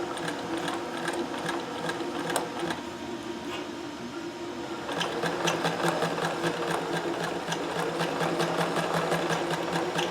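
A Singer sewing machine stitches a zigzag eyelet, fast rhythmic mechanical clatter close by that pauses briefly midway and then resumes, a little louder and busier.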